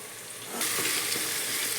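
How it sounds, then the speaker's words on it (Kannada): Onions frying in oil for avalakki (poha) burst into a loud, steady sizzle that starts partway through and hisses on without pause, with no talking. "ಉಳ್ಳಾಗಡ್ಡಿ ಫ್ರೈ ಅದು ಈಗ"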